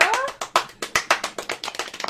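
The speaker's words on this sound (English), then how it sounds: "Those are the two weirdest claps I've ever seen in my life." A string of odd, uneven hand claps, including a one-handed clap, sounds as quick dry slaps in an irregular rhythm, close and fairly loud, with a brief voice at the start.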